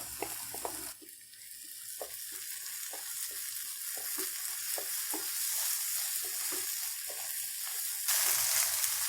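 A paste of cashews, poppy seeds and almonds fries in a pan with garlic for a paneer dish, sending up a continuous soft sizzle under a steady run of scraping stirs, close by and fairly quiet.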